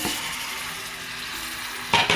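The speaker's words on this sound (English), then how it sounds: "So I just fry up mine and then I lock it down" Turkey neck sizzles and fries in a pot for Jamaican brown stew, a steady close crackle of hot oil with a brief louder scrape or clatter near the end.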